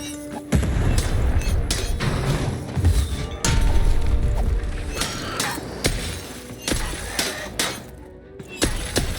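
Loud booming cannon blasts and crashing impacts from the game Lost in Random, repeating irregularly over a dense, noisy action soundscape.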